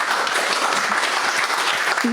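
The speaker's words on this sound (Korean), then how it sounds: "큰 박수로 환영해 주시면 감사하겠습니다." Audience applause welcoming a speaker to the podium at a plastics forum, a steady, dense wash of clapping that holds evenly for a couple of seconds without a break.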